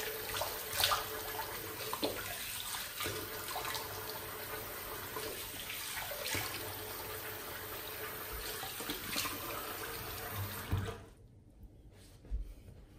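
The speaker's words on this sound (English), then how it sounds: "So rinse the face and check for residual slickness." A tap runs steadily while someone rinses their face after a double-edge safety razor shave, with a continuous close rush of water and splashy surges from the hands, then the flow stops and the room goes quiet.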